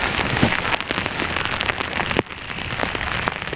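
Heavy rain falls hard on surfaces nearby, a dense, loud hiss of pattering drops with scattered sharper splats that continues throughout.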